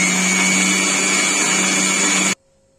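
A mixer grinder blends banana with milk, cashews and almonds into a home-made banana juice, a loud, steady motor whir running unbroken for about two seconds before cutting off abruptly into silence.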